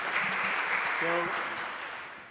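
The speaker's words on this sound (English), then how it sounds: "We can applaud the speaker again." Audience applauding a speaker in a small conference theatre, a continuous wash of clapping throughout, with a voice briefly speaking over it.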